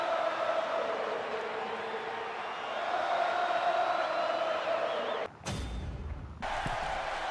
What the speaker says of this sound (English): as the crowd sing his song here in Lyon, France.